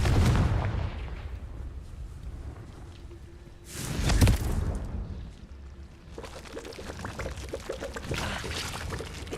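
A Confringo fire spell going off in Hogwarts Legacy: a sustained whooshing rumble punctuated by a sharp booming burst midway, then crackling, rushing game noise continuing to the end.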